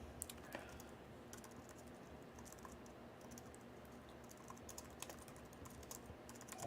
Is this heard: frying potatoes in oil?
no